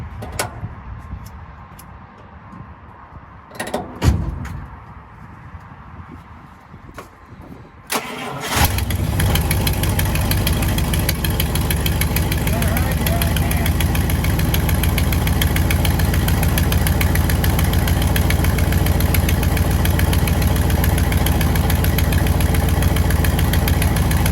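A 1955 Buick engine cranks and fires after several seconds of quiet workshop clatter, then settles into a loud, steady, rough idle that runs to the end without a break.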